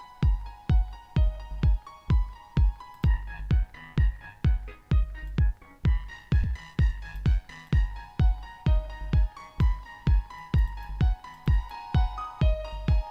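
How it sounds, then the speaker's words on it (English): A piano melody loop plays in Ableton Live 12, steady repeating notes over a regular low pulse, evenly rhythmic and moderately loud with no talking. "Let's try our other melody loop here, which is a piano"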